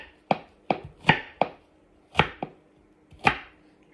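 Knife chopping food on a cutting board, seven crisp separate chops in an uneven rhythm, close and clear with nothing else heard.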